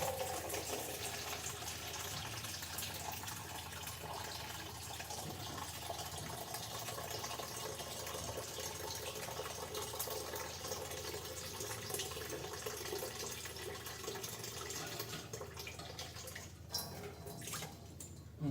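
Water is poured from a dipper into a pot for heating while preparing dye, a continuous broadband splashing and trickling that holds steady for the full duration, close and fairly loud, with no talking.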